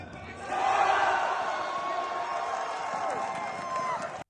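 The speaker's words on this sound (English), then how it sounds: "Here is a live reaction from the crowd for the round." A large crowd at the StarLadder Budapest Major Counter-Strike esports event roars and cheers loudly and continuously, with excited shouts rising out of the noisy arena din.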